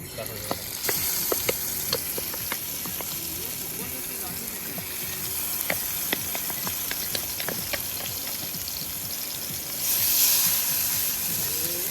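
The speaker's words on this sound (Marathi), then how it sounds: "मस्तपैकी मच्छी फ्राय करून घेऊ तवा पण तापला आहे चांगला" Continuous sizzling and crackling of fish frying on a hot pan at a night beach campsite, with scattered pops and clicks, a louder hiss of steam near the end.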